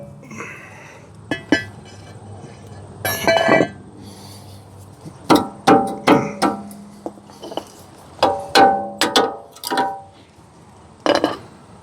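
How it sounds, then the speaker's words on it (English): A Ford F150 rear brake rotor comes loose and is handled, giving a string of sharp metallic clinks and knocks, some ringing briefly, spaced irregularly across the stretch with quiet gaps between. "And actually, my rotor's coming right off too."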